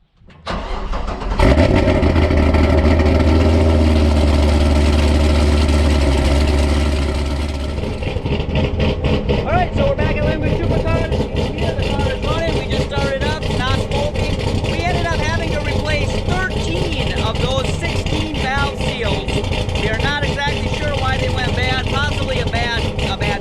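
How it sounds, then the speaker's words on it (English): A Camaro's engine runs on a chassis dyno in a shop, loud and steady. It starts with a heavy low rumble, then settles into a sustained drone with revving changes, and talk can be heard underneath. "We got a car on the dyno right now, a Camaro."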